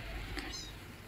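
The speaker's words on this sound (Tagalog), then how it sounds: "loud yung pusa natin" A one-month-old kitten gives a single loud meow near the middle of a short stretch, close to the microphone, over steady indoor background noise.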